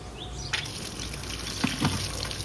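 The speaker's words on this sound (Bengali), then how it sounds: "এখন হলো আমি পাতা ধুয়ে নিব।" Gourd leaves are rinsed under running water in a kitchen, a steady tap stream with a few splashy bursts and handling sounds near the end, close and alone.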